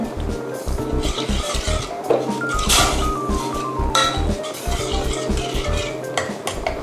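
Red beans being stirred into a small amount of water for a Japanese pumpkin shiruko, with a steady run of scraping and clinking utensil-on-pot sounds, close up and fairly loud, with no voices.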